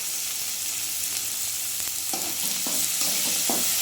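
Tomatoes for a pea kurma fry in a pan with a steady, close sizzle, joined in the second half by several rhythmic scraping stirs.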